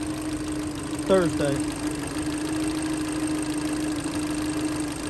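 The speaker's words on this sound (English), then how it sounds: "You can see it's got a little rough idle to it." A 2012 Kia Soul 2.0 with an O2 sensor fault idles roughly, a steady low engine drone with a faint uneven pulse, while a voice speaks briefly near the start.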